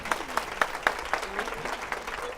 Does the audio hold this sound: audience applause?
yes